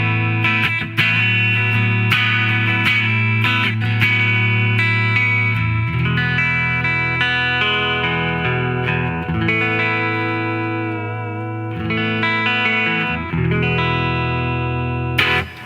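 Electric guitar played through a Midnight Amplification Devices Lowatt preamp pedal, a distorted, effects-laden tone with sustained chords and ringing notes, loud and continuous with no talking.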